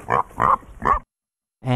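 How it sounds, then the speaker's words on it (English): A pig grunts three times in quick succession, close and fairly loud, then goes quiet before starting another grunt. "pigs make different noises based on what they are experiencing at the time they make the sounds"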